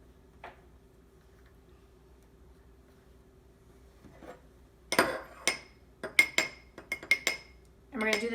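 A utensil mixes rubbing alcohol and red food coloring in a small bowl. Near silence gives way to a run of sharp clinks and scrapes against the bowl, quick, irregular and close.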